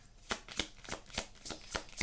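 A deck of cards is shuffled for a tarot-style card reading, giving six or seven quick riffling bursts in a steady rhythm, close and crisp, with no talking.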